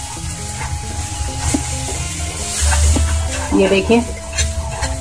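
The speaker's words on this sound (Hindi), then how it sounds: "मसाले को अच्छे से चलाएंगे और मसाले का एक क्रीमी पेस्ट तैयार करेंगे" A spice masala paste with a splash of water fries and bubbles in a pan while being stirred, with soft sizzling, scraping and a light clink of utensils, and a voice speaking briefly over it.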